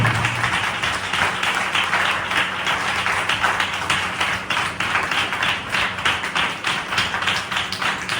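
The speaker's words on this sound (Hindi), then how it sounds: "हम जोरदार ताली से उनका स्वागत करें" A church congregation at a worship gathering claps loudly and steadily in welcome, a dense, close wash of many hands sustained throughout with no talk over it.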